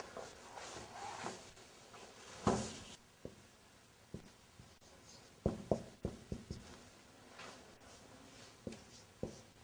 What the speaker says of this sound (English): Now I want to write down something on the board again.